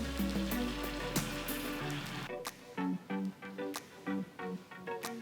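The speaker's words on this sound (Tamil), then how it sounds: "தோசைக்கல்லை நல்லா சூடு பண்ணி கொஞ்சமாக மாவு எடுத்து தோசையை ஊற்றுங்க" Leftover rice dosa batter hitting a hot dosa griddle, a soft steady sizzle at first that gives way to scattered crackles and pops, close and moderately quiet.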